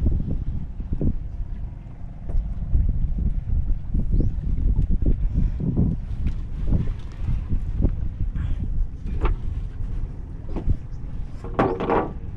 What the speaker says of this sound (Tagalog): Oh, lakas ng sipol ng hangin.